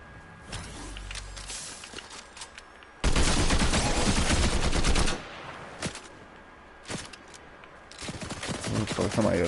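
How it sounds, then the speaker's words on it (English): Gunfire from another player in the video game Fortnite, sharp single shots, then a loud continuous burst of rapid fire, followed by scattered further shots at moderate distance among game noises. "Somebody else was shooting at me."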